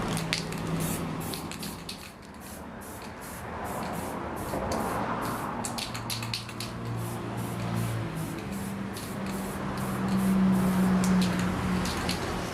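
A spray paint can hisses steadily in long continuous bursts while coating a homemade roof rack for a Suzuki Carry pickup, close and loud with brief pauses between passes.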